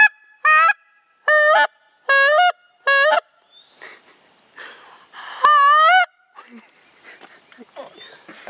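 A handheld goose call is blown and fingered to make honking calls, giving a series of loud, clipped, nasal honks in short bursts, then a longer drawn honk, with breathy sounds and laughter between them.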